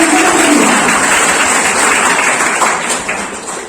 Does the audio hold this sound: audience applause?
yes